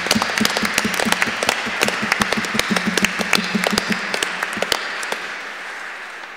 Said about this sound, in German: Das ist ein kleiner Applaus wert.